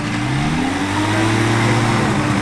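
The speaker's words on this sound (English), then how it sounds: "listen to them crank the engines" Aircraft engines crank and run up on a carrier flight deck during flight operations, a loud steady roar with a rising whine that holds throughout, with no voices.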